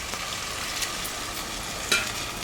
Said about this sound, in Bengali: লবণ হলুদ দিয়ে আমি সামান্য একটু জল দিয়ে দিলাম